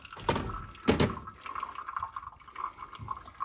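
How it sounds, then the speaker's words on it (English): Hot water is poured from a kettle into a paper filter in a Chemex glass coffee maker to rinse it, producing a close, trickling splash with uneven drips and pours. "we're going to rinse the filter and heat the Chemex. Just get some water in there."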